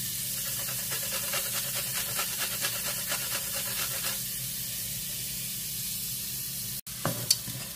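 Rice frying in a pan is stirred steadily under a constant sizzling hiss. Rhythmic scraping strokes fill the first half, the hiss runs alone after that, and a brief clatter comes near the end.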